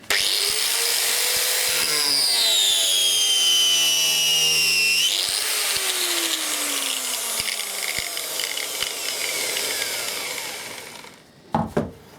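A worn Bosch corded angle grinder runs on a workshop test, a loud high whine that shifts pitch as it spins, then winds down and falls quiet before a final clunk.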